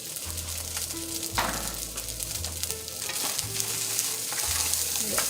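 Rice with peas and carrots sizzles in a hot pan as a utensil stirs and scrapes through it, giving a steady close frying hiss broken by repeated stirring strokes.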